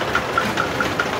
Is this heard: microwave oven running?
no